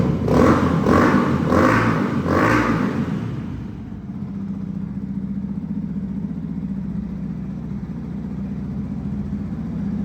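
A 2013 Yamaha YZF-R125 motorcycle revs in several quick bursts, then settles into a steady idle with a low, throbbing exhaust rumble, dB killer still fitted in the exhaust.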